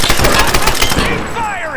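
Rapid gunfire in the 2013 Tomb Raider video game, a loud dense burst of repeated shots over about two seconds that tails off into a whizzing sound.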